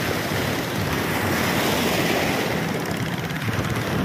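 Ocean surf at Lobo near fishing boats, heard as a continuous loud wash of breaking waves with wind rushing across the microphone throughout.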